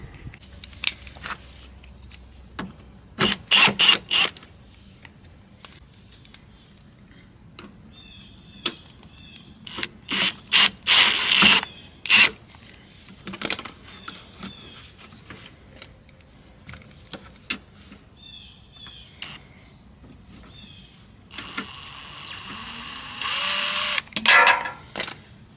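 Power tool removing a few screws from a body part on a 2022 Toyota Corolla hatch, with short repeated whirring bursts over a faint steady whine and a longer sustained run near the end.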